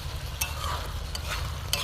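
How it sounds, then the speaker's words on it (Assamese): Mutton cooking with onions in a kadai is stirred, a steady close sizzle with a few brief scraping strokes, heard alone without talk. "এয়া দেখিছে মাংসটো অকণ হিলাই দিছোঁ"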